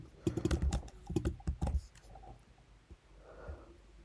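Python code being typed on a computer keyboard: close, quick bursts of key clicks with brief pauses, then the tapping thins out into a quieter stretch near the end.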